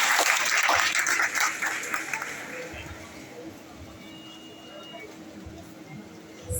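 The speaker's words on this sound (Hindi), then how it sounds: "लेकिन पहले मैडम के लिए जोरदार तालियां बजाएं" Audience clapping at a Madhya Pradesh tourism quiz competition, a loud burst of applause at the start that thins and fades, leaving quiet room noise with faint voices.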